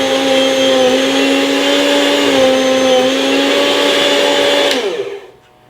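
A Chef's Choice 615A electric meat slicer whirs steadily with a loud, even motor hum while slicing bread, then winds down and stops near the end.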